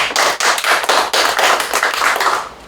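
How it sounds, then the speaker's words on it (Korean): An audience at a Korean Christian prayer rally claps in unison, with close, loud, sharp claps in a brisk steady rhythm that ends after a few seconds. "박수를 드립니다."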